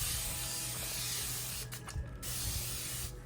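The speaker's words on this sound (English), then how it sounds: "I'm also gonna spray this down with some water." Water spritzed from a spray bottle onto a resin hair clip set on a paper towel before wet sanding; a steady hissing mist with a few short, sharper bursts of spraying, close up, and no talking.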